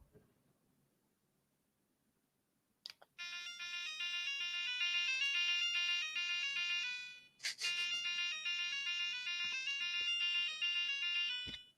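Tinny electronic music from the video game Doom, played close to a mic through a small speaker: two bursts of steady chiptune-like tones separated by a short gap, with faint background noise before them.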